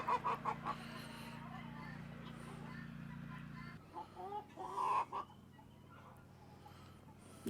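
A rooster clucks and squawks in short bursts, fairly close, with a steady low hum underneath and brief pauses between calls.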